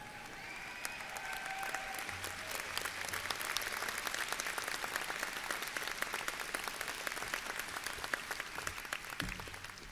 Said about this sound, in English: Please join me in one more round of applause for all of the graduates from 25.